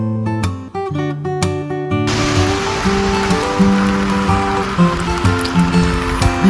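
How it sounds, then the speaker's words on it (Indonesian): Heavy rain in the Japanese mountains, a dense steady hiss that swells in after a few seconds and continues evenly, with a voice briefly over it at the start. "Hujan-hujan di Jepang itu seperti ini ya kawan-kawan."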